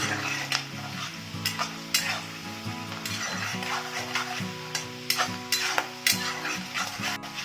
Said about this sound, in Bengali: পেঁয়াজ কুচিগুলি হালকা লাল করে ভেজে নেব খুব বেশি কড়া ভাজবো না